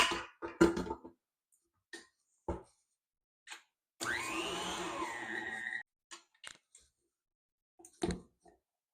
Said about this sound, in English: So I'm gonna get my mixer going and then I'll show you what it looks like